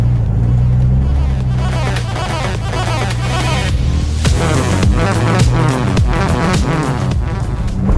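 A car fitted with an electronic power steering conversion is driven on a test drive, its engine and road noise steady and close inside the cabin, with gear changes and rising revs; some talk may sit beneath.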